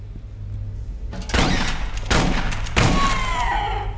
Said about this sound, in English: Back in my day, shotguns actually did something.